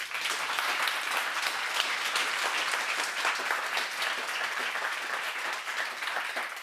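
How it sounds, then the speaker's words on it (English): Sustained, dense applause from a conference audience at the event's closing session, loud and steady throughout with no pauses and no voices over it. "this applause is for you"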